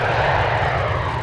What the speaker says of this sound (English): The plane is on the move.